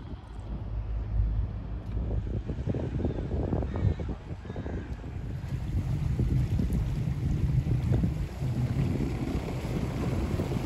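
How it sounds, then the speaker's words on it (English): A Croatian border police boat's engine drones over choppy water, mixed with gusty wind buffeting the microphone, steady and fairly close throughout. "So the boat over there is the Croatian border police."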